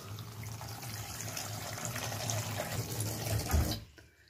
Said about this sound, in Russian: Так, я замочу сейчас в холодную воду.